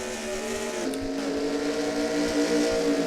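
Race car engines in a racing video game, the Home Depot 400 race of a Lightning Cup series, hold a steady, layered drone with shifting pitch and no talk.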